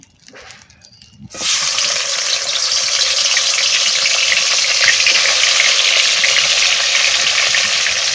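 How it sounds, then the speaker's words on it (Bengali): Bhetki fish pieces dropped into hot fish oil burst into a loud, steady sizzle after a quiet moment, the frying hiss holding strong and continuous close up. "এবার আমি এই মাছগুলো ভেজে নেব"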